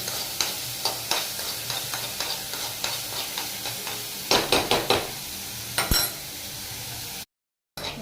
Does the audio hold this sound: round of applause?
no